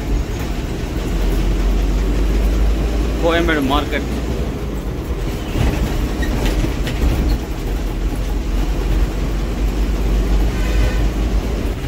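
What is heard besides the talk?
metro train passing overhead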